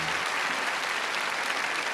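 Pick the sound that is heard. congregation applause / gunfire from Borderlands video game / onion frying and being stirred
congregation applause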